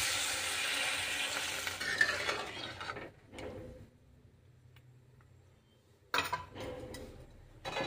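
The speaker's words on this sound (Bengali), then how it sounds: "এবার আমি জল দিয়ে দেবো।" Water hits vegetables frying in spices in a pan and sets off a loud burst of hissing sizzle that dies down to a quiet simmer with a light clatter. A second short sizzle surges near the end.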